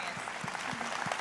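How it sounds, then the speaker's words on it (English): A conference audience applauds Dr. John Fielder at a plenary session, producing a steady, even wash of clapping heard from a distance. "let's give him a round of applause"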